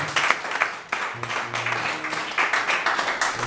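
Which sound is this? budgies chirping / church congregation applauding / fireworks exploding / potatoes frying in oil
church congregation applauding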